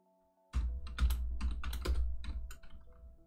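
Rapid keystrokes on a computer keyboard entering a console command, a close, dense burst of clicks lasting about three seconds after a brief quiet start.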